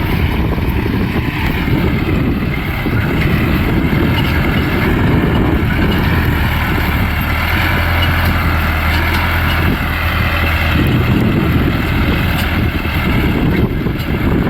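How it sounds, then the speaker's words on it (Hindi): A loud, steady diesel engine of a new Arjun 4x4 CRDI tractor deep-ploughing a field drones continuously with a low rumble and some wind buffeting, like heavy machinery working close by. "काफ़ी अच्छी गहरी जुताई के साथ ट्रैक्टर अभी चल रहा है"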